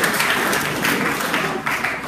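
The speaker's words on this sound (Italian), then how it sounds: "Un applauso Enrico, maestro Enrico." Audience applause at a live magic show as a volunteer is called up, a short burst of lively clapping from the crowd with uneven swells.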